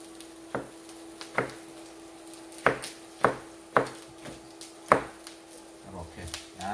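A knife slices thinly through brisket on a cutting board, giving sharp separate chops at an irregular pace, about a dozen cuts, close and clear over a low steady hum.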